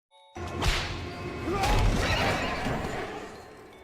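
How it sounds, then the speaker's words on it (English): Horses on a quiet road, with a broad whooshing, rumbling wash that rises quickly and stays loud, a short neigh-like cry near the middle, and no talk. "the quiet road again echoes with the neighing of horses,"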